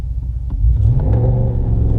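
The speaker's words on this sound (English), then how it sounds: "this is the first one, 2-wheel drive. We're just gonna go from a dead stop." A 2019 RAM 1500 two-wheel-drive pickup pulls away from a dead stop, its engine rumbling low and rising steadily in a loud, continuous surge close by.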